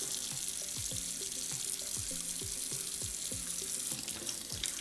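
Makeup brush rinsed under a running faucet, a continuous hiss of tap water with rhythmic sloshing splashes as the brush is worked and squeezed, close and steady, with no talk.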